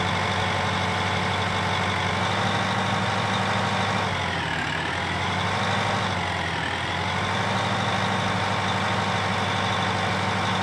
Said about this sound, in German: Der hier fährt, also dieser Radlader.